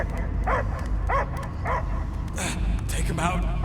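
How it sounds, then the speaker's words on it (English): A dog barks in repeated short yips and bow-wows in Guardians of the Galaxy, fairly loud and steady, with voices speaking over and between the barks. "I hear only barking"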